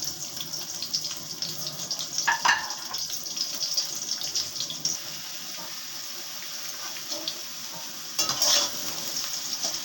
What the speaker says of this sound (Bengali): আলুগুলো আগে ভেজে তুলে নিই।